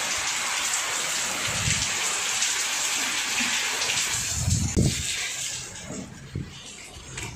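Heavy rain pours steadily during a violent storm, a dense continuous hiss of water over a veranda, with a few low thumps and splashes breaking through.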